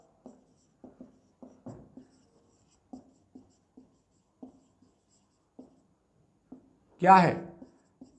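A pen writes answers by hand during a Class 10 arithmetic progression maths lesson: short, soft scratchy strokes come in irregular bursts, close and quiet, and a voice speaks briefly near the end.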